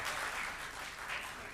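Audience clapping at a Hindi poetry gathering (kavi sammelan) during a cultural evening, a steady dense wash of hands that holds at even loudness through the short stretch with no voices over it.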